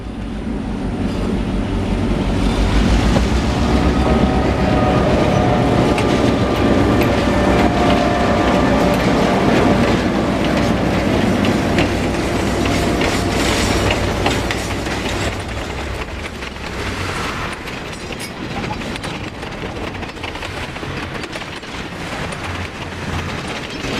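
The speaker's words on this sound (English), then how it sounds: "After everybody reboards the train rockets south toward Parrish." The Pumpkin Patch Express excursion train rumbles and clatters along the rails heading south, loud and continuous, with a metallic ratcheting rattle that eases slightly toward the end.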